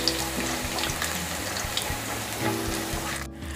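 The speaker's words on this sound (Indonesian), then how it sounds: "Saya tumis terlebih dulu bawang putih yang sudah dicincang kasar." Coarsely chopped garlic sautéing in a pan, a steady close sizzle with faint stirring scrapes and a low hum in the background, ending in a brief tail-off.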